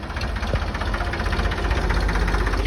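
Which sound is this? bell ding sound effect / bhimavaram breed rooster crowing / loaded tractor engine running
loaded tractor engine running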